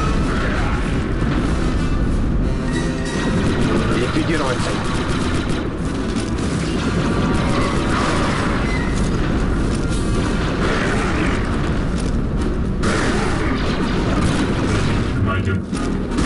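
Loud, continuous battle din from the video game Star Wars: Republic Commando, with repeated grenade explosions amid heavy gunfire, dense and unbroken throughout, with voices faintly mixed in.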